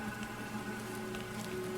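Steady rain falls in the video game Planet Crafter, a dense continuous patter at moderate level with a faint tonal hum beneath, no talking.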